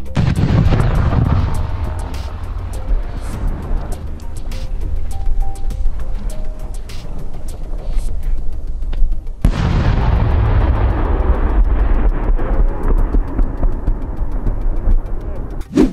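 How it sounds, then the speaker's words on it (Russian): Large fireworks explode in rapid, booming succession with deep rumbling thuds and crackling bursts, loud and continuous. "Это действительно внушительный, хоть и разовый взрыв."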